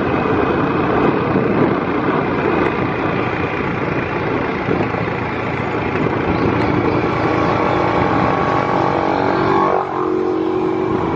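A boat motor runs steadily, a loud, continuous wide-band drone holding an even level throughout with no pauses, heard during a whale-watching trip at Oslob.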